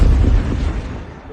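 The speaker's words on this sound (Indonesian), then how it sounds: "terdengar sebuah ledakan keras dari arah teras rumahnya." A loud explosion effect for a horror tale set at a house terrace, a single heavy boom with a deep low rumble that decays over about a second, close and with no voices.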